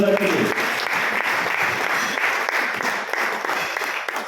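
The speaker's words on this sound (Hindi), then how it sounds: "एक जोरदार तालियां हो जाए बुधवार के लिए" An audience at an income-plan seminar bursts into loud, sustained applause, dense clapping filling the room evenly from start to finish after a short voice at the very beginning.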